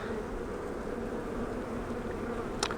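A big swarm of honey bees hums in a steady, close, continuous buzz, with a brief sharper sound near the end.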